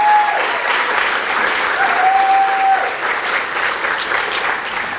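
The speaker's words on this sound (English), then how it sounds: "nice round of applause" A college awards ceremony audience gives sustained applause for award recipients, a steady, even roar of many hands clapping in a large hall that continues without break.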